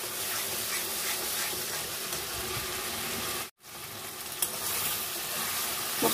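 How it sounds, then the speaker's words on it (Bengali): Spice paste sizzles and crackles steadily in hot oil as it is fried down for a vegetarian eggplant dish, with a loud, continuous frying hiss broken by a short gap and occasional stirring scrapes. "মশলাটা বেশ কষা হচ্ছে"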